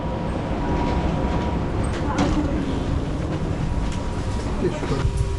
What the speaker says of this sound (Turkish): İkinci sınıf tren bu.